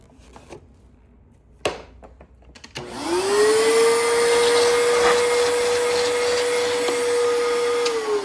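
A clogged vacuum cleaner runs after a few quiet knocks and clicks, starting up with a rising whine. It settles into a loud, steady, strained drone with a pinched tone that holds to the end.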